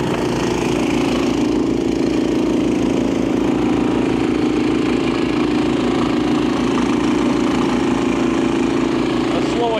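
A Honda HSS1332 ATD snowblower engine runs steadily throughout, a loud, close mechanical drone with constant rumbling pulses as the machine moves down a sloped driveway.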